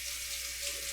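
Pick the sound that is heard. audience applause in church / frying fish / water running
water running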